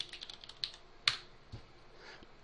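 Administrator password being typed on a computer keyboard: a quick run of light key taps followed by a few scattered, sharper keystrokes, close and clear with no talking.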